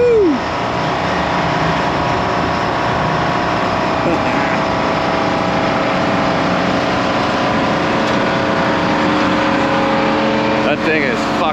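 Forty-year-old airport snow blower chewing through heavy storm snow, a loud continuous engine drone with a steady rumble, and people talking over it.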